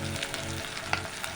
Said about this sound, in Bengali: এবার আমি এর মধ্যে রসুন বাটা, আদা বাটা দিয়ে দেবো